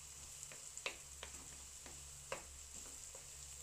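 Fresh tomato being stirred into pork giniling frying in a pan, with a steady quiet sizzle and soft scraping strokes coming at a loose rhythm, close up.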